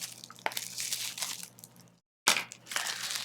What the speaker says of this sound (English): use my huge big scissors for that because I don't want to damage the box